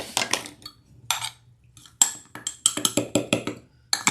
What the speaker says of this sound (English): And then we're going to stir and stir and stir and stir